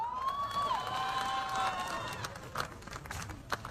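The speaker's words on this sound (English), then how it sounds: "A big round of applause for all those who performed." Audience applause and cheering at a college Foundation Day performance event, crowd noise and scattered claps heard under a sustained whistle or tonal sound, moderately loud and fairly distant.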